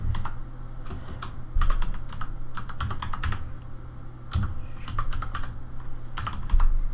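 Close, clicky computer keyboard typing comes in quick irregular bursts of keystrokes with brief pauses, as a folder name is entered during a Minecraft server setup.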